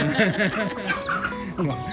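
Chickens on a rural rice-farming homestead cluck close by in quick repeated bursts, several overlapping calls rising and falling.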